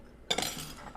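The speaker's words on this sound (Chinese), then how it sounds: "把它搅拌均匀" A utensil stirs a seasoning mixture for eggs with bay leaves, rice wine and salt in a pot, giving a brief, close scraping clatter of metal against the vessel that lasts under a second.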